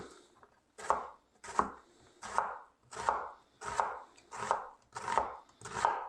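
A knife slices an onion into lengthwise strips on a cutting board, eight crisp, evenly spaced cuts landing roughly every three-quarters of a second, each a sharp thunk with a short crunchy tail, close and clear.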